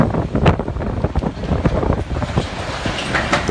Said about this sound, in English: The wind keeps building until the tent finally gives up completely.